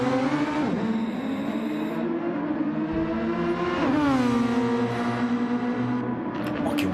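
Open-wheel Super Formula race cars at full throttle along the start-finish straight at Fuji International Speedway, a loud continuous engine wail rising and falling through upshifts, with a second car's pitch sweep joining midway.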